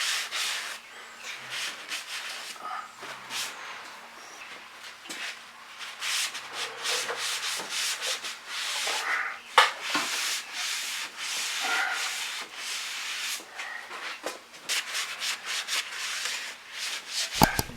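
Rag scrubbing with acetone along a metal bar on a Kawasaki Teryx 750 side-by-side, rapid repeated rubbing strokes in uneven bursts with brief pauses, close and moderately loud, and occasional small knocks.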